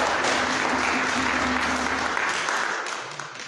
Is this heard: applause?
yes